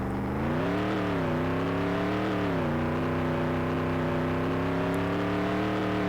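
Race car engine in the NASCAR 98 video game, rolling out of the pit lane with a steady, loud droning whine that rises and dips slightly as it accelerates, continuous and alone.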